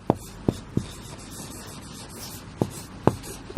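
Pen strokes mark an answer by hand on paper, heard as a handful of crisp, close taps and scratches at irregular intervals over a low, steady room hum.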